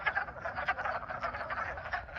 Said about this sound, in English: get close to some of the wood frogs without disturbing the breeding calls of males